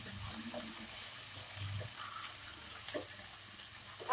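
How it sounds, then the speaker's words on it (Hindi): Vegetables stir-frying in a pan with soy sauce and black pepper for Hakka noodles, a faint continuous sizzle with occasional soft stirring knocks, quiet and close, no voices. "सोया सॉस ऐड कर रही हूँ और इनको अच्छे से भून लेंगे।"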